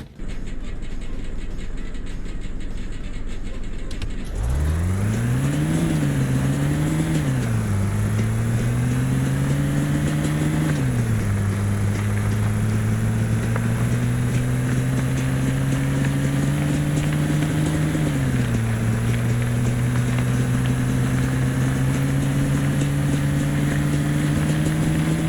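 An SMZ microcar fitted with a Gearbox Pro in the desert driving game A Desrt starts up after a quiet moment, then its engine drones and climbs steadily through several gear shifts as it accelerates to top speed, with wind noise behind.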